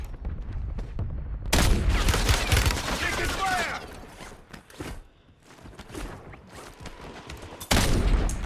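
Rapid AK rifle gunfire in Call of Duty Warzone, loud close bursts of automatic fire with sharp cracks over several seconds, trailing off and then returning, with a player talking in between.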